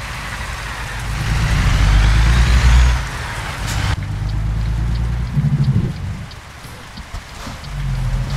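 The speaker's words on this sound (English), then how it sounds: "Here it is also rain in this game." Heavy rain pours down in the American Truck Simulator video game, a loud steady hiss layered over a low truck engine rumble, with a sharp knock partway through.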